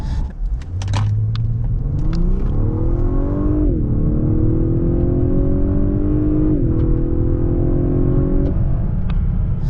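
A 2020 Lexus LS500 flagship luxury sedan with a 3.5-liter twin-turbo V6 accelerates hard from inside the cabin, its engine note rising steadily through two upshifts with brief dips, loud and close with a deep underlying rumble.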